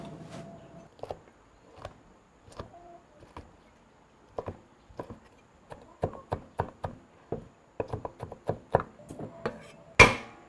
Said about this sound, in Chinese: 把泡椒给它摘碎。